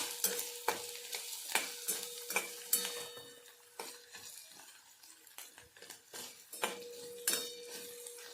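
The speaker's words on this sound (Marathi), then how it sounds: "मिरच्या मी इथे कट करून घेतलेल्या आहे आपल्या ह्या दोन मिनटासाठी इथे छानपैकी डाग पडेपर्यंत आपण इथे तेलामध्ये फ्राय करून घेणार आहोत" Two green and two red chillies fry in hot oil with a soft sizzle, while a utensil clinks and scrapes against the pan in frequent, uneven stirring strokes close by.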